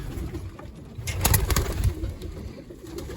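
A pigeon coos softly in a few low, muffled calls over a steady background hum, with no one speaking.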